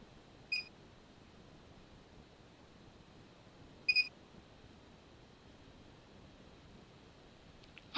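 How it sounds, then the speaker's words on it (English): ALF rangefinder giving short electronic beeps as each measurement finishes, two brief high double tones several seconds apart over a quiet background, followed by a sharp click at the end. "you can hear an acoustical signal that finishes each measurement"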